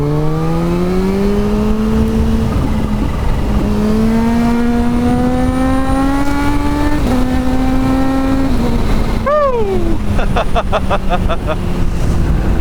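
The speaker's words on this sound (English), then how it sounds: "Man, that exhaust is hella fun." A Kawasaki Z H2 motorcycle exhaust revs up through the gears with a rising snarl, then a quick blip and a burst of rapid crackles.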